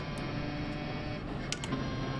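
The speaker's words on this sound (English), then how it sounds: "Let's give you guys some of this engine sound." A car engine in the GT Sport racing game, heard from inside during an FIA Nations Cup race, hums steady and dense with a buzzing, even drone and faint ticks, no voices.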